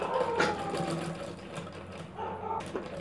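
Close up, a sewing machine runs a line of stitching over piping on the front neck of a cup blouse, a busy whirring rattle with small changes in speed.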